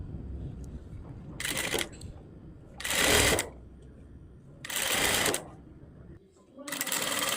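Four short bursts of a sewing machine stitching a folded fabric strip for a blouse hook panel, separated by brief pauses, close and fairly loud over a low background.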